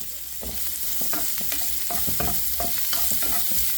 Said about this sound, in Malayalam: വെളുത്തുള്ളി ബ്രൗൺ ഷെയ്ഡിലേക്ക് വരണ്ട അതിനു മുമ്പ് തന്നെ നമുക്ക് സവാള ചേർക്കാം